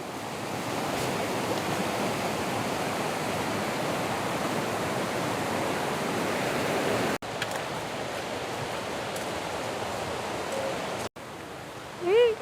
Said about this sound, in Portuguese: Não sei se vocês estão ouvindo o barulhinho aí, ó, da água.